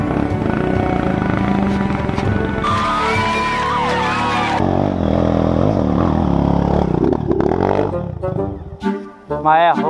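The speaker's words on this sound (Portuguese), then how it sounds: "a moto começou a empinar" A motorcycle engine revs hard and roars loudly throughout on an off-road trail as the bike wheelies, with people shouting over it and the pitch rising and falling.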